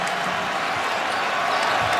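A basketball arena crowd at a Marquette versus Villanova college game roars and cheers continuously, a dense, sustained wash of many voices filling the space at moderate loudness.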